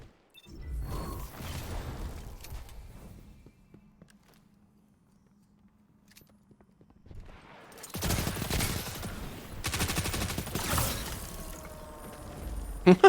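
Bursts of rapid video game gunfire, loud clattering volleys that start and stop, with a long near-silent stretch and a low hum between the bursts.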